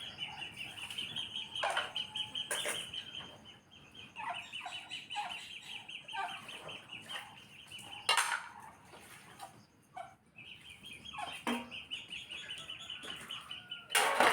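Domestic ducks hungry before feeding make loud, repeated calls outdoors in scattered bursts, with a few sharp squawks and wing flaps among them.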